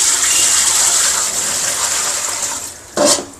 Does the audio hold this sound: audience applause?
no